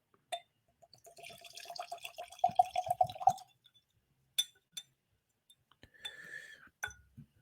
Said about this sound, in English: But we're going to pour this up.